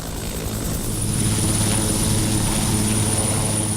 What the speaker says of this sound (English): the busy coming and going of civilian and military helicopters from all corners of the world